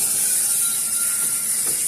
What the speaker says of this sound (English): I'm going to go ahead and spray it with some pan butter spray